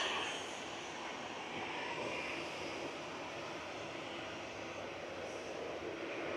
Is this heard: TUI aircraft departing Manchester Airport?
yes